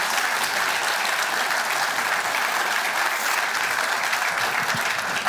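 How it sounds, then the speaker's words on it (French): Audience at a general assembly applauds steadily and loudly throughout, a dense unbroken wash of clapping with no speech on top. "on les applaudit"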